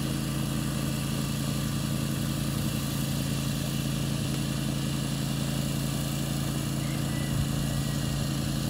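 A steady low mechanical hum and drone runs continuously at an even level, a small robotic lawn mower motor creeping slowly in a circle, unchanging throughout.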